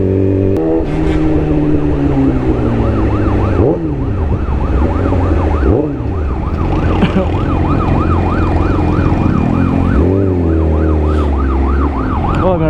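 An emergency vehicle siren wails in rising and falling sweeps through congested traffic, loud and continuous over engine rumble as a sport bike rider waits among the cars.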